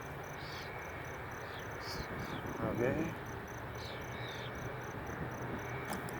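Honey bees hum at an open hive during an inspection, a low steady drone under constant insect chirring, with a brief spoken word and some handling noise midway.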